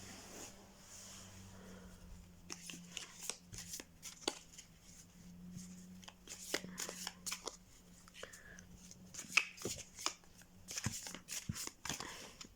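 A deck of oracle cards being shuffled and drawn by hand, with soft riffling bursts and sharp card snaps in an irregular rhythm, close and quiet, while a voice talks intermittently underneath.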